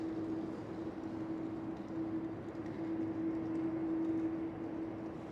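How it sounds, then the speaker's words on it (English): A KLM Airbus A330 taxis and turns at Schiphol Airport, its engines giving a steady, distant hum with a constant tone running through a broad rumble, unchanging throughout. "And the KLM A330 is turning towards the left as well."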